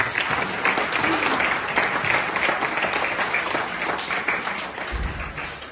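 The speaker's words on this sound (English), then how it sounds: "I think just alone the boys deserve a round of applause for that" A hall audience applauds a youth football team at an end-of-season awards night, steady dense clapping filling the room for several seconds at even loudness without voices.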